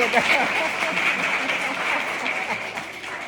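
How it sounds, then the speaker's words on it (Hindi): Schoolchildren clap together in a government middle school classroom, a dense, continuous burst of applause over several seconds with voices mixed in. "ताली बजाओ, देखो बच्चों को"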